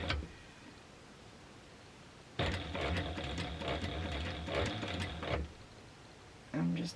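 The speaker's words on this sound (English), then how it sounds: "Don't forget to back stitch here." Sewing machine back stitching a baby sling runs in a steady whirring burst of about three seconds, starting and stopping abruptly, with short quiet gaps before and after and a brief restart at the end.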